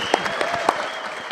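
An audience at a panel forum applauds, with dense clapping that holds steady for the whole short stretch while a faint tone sustains beneath.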